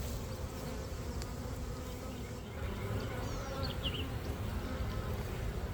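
Honeybees buzz steadily around an open mating nuc raised from grafted queens, a dense close drone filling the whole stretch with a few brief higher whines from passing bees.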